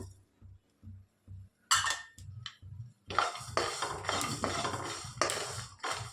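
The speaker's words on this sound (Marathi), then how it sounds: "मी मस्त भाजले बघा, कसा आवाज यायला आलाय, चटचटायला आलाय" Peanuts and sesame seeds dry roasting in a pan, rhythmic scraping strokes at first, then a dense, loud crackling and popping that runs continuously.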